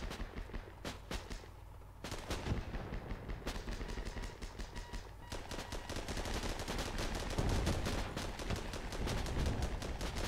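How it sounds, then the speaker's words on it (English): Sustained battlefield fire in the armoured combat game Armoured Battle Crew, with dense rattling gunfire and heavy mortar thumps continuing throughout, growing slightly louder toward the end. "Now we've got mortars."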